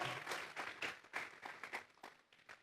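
A church congregation applauding, giving a soft, distant patter of clapping that rises and falls over a few seconds, faint throughout.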